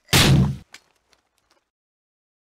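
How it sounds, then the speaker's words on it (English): A single loud, close grenade blast in the tactical shooter Tom Clancy's Athena Sword, a short heavy burst that dies away quickly, followed by a few faint scattered knocks and near silence. "Grenade, take cover!"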